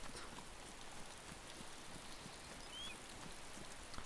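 Rainfall in the video game DayZ Standalone makes a quiet, continuous hiss of drops that stays even and fairly distant for the whole stretch, with no talk over it.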